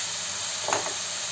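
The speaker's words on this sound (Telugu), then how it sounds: "టమాటో, క్యాప్సికమ్ ఈ సన్నగా కోసుకున్న ముక్కలన్నీ మనం వేసేసుకొని నీట్గా కలుపుకోవాలి." Finely chopped tomato, capsicum and carrot frying in a pan, a constant bright sizzle with one brief swell of stirring near the middle, close and without talk.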